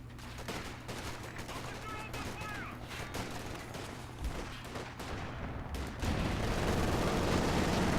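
Game battle gunfire from Company of Heroes 2 on a winter map, with continuous dense rattling fire and scattered bursts under a busy war-zone din, rising to a louder, thicker roar in the last two seconds.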